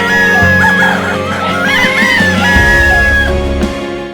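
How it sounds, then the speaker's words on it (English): A rooster crows on a farm past dawn, a loud, drawn-out harmonic call rising and falling over about four seconds, close and clear, with no talk over it. "The rooster crowed and kept crowing well past dawn."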